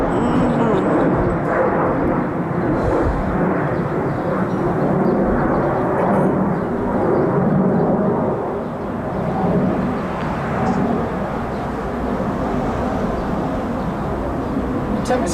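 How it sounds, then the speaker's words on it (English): A fixed-wing airplane passes overhead outdoors, a loud, continuous low roar that fills the whole stretch and eases slightly midway, heard alone without talk. "Hold on, let this plane go"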